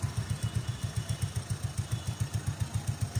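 Motorcycle engine runs at idle with an even, rapid low thumping pulse, steady and fairly close, with no talk over it.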